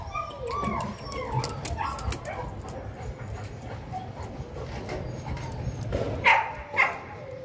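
Dogs and puppies on a farm with puppies for sale, including a long-haired mother dog, giving scattered yips, whimpers and barks under steady background noise, with a couple of sharper, louder yelps near the end.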